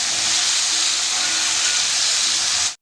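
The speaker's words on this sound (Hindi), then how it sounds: "और मशरूम को हम हल्का सा तेल में अच्छे से फ्राई कर लेते हैं चलाते हुए।" Mushrooms fry in a little oil in a pan, giving a steady, loud, even hiss that holds without a break and then cuts off abruptly.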